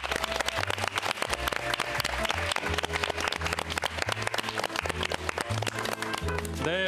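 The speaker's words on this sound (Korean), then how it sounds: "어떤 분들인지 큰 박수로 모셔보겠습니다." A studio audience on a Korean morning talk show claps rhythmically to welcome guests, the claps layered over loud upbeat music with a strong bass pulse.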